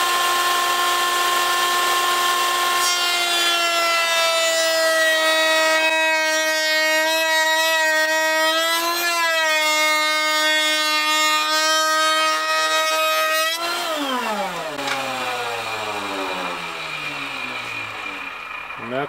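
A router spins up with its bit cutting molding for a gothic finial cap, a loud, sustained tonal whine that shifts slightly in pitch, then winds down with a falling drone near the end.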